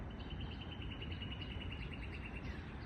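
A single bird in Mount Vernon gives a quick series of faint, rapid repeated chirps against steady low background noise, the call fading in and out.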